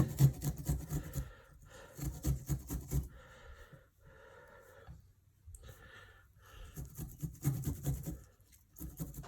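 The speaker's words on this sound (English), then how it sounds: "There's your 1 teaspoon of grated ginger" Fresh ginger is rubbed against a grater in quiet bursts of rasping strokes, close and faint, with short pauses between rounds of scraping.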